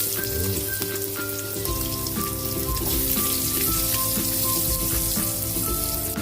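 Ginger frying in pork fat rendered in the pan, a steady, crackling sizzle that holds loud and even throughout with no break, while music plays softly beneath.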